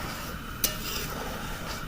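Bean curry being stirred in a pot on a gas stove, a soft, quiet continuous scraping and swishing with one brief sharper clink of the spoon against the pot partway through.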